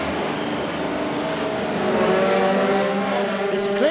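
Hypercar and LMP2 race cars at the Le Mans start, a loud, sustained engine roar that swells as the pack passes, with rising whining revs near the end.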